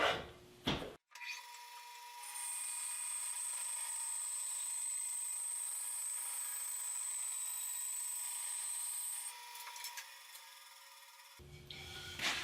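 A power saw rips through a plain sawn wood board to produce a quarter sawn board, a steady sustained whine running unbroken for about nine seconds, with brief handling noise before and after.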